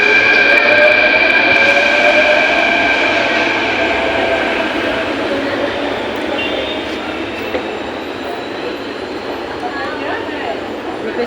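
A metro train runs past at Andheri with a loud, steady rumbling roar and high wheel squeal that slowly fades, heard close from the platform or carriage with voices mixed in.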